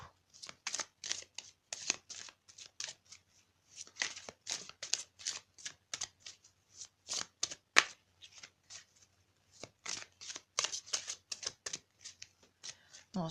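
A deck of tarot cards is shuffled by hand, giving close, crisp riffling bursts in a quick, uneven rhythm with brief gaps, loud and continuous through the stretch.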